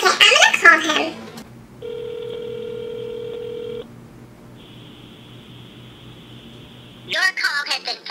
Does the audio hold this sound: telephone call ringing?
yes